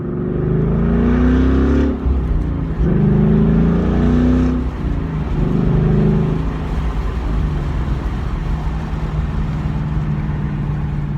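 Engine of a 2015-18 Ford Mustang with a Borla ATAK exhaust heard from inside the cabin with windows down, revving to around 4,000 RPM between gear changes, a loud steady drone with dips at each shift.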